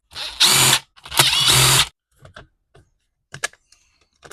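A T25 Torx screwdriver removing the air cover from a Craftsman string trimmer: two loud whirring bursts of powered driving, then faint scattered clicks and taps of small parts.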